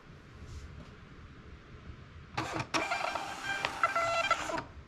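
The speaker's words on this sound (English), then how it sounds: "go to print, select the printer, the printer thermal printer right here, and hit on print" A Rollo X1038 thermal label printer prints a label, starting with a short mechanical whir that turns into a steady buzzing feed lasting about two seconds, close and fairly quiet.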